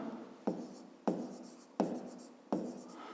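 A pen scratches across paper while solving a maths exercise, four distinct strokes at roughly even intervals, each starting with a sharp onset and fading, close and quiet.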